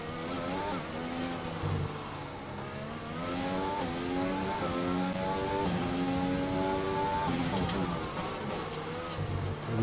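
Formula 1 race car engine in the F1 2020 video game during practice at the Russian Grand Prix, a high-pitched, buzzing whine rising and falling steadily through gear changes, close and continuous.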